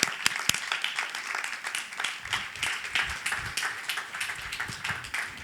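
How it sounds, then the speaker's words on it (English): Warm round of applause from an audience welcoming science speakers onto a stage, dense steady clapping at moderate loudness with a few sharp claps standing out, continuing throughout. "please give them a warm round of applause"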